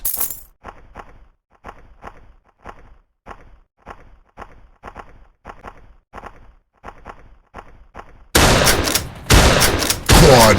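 Shotgun blasts in a first-person shooter, a long run of regularly spaced sharp shots close up, followed by a dense, loud burst of heavier gunfire and impacts at the end.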